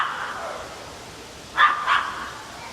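A small dog gives two quick, close barks in a row inside a quiet room, after which the space falls still.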